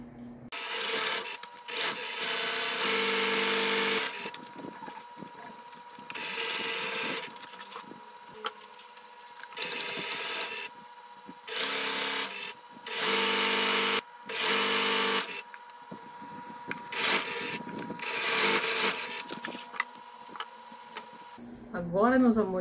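A sewing machine stitches the border of a dish towel in repeated bursts of fast whirring, each run a few seconds long, with pauses in between where a person speaks.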